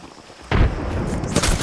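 A frag grenade explodes in a first-person shooter, a sudden loud, close boom that hits after a half-second of quiet and rolls on into a rumbling blast tail.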